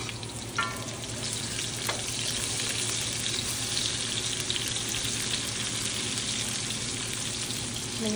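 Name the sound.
sautéing ginger and onion in a pan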